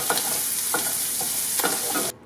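Meal kit vegetables sizzle in a pan with a splash of water while a utensil stirs them in a few scraping strokes, close and steady, before the sound cuts off.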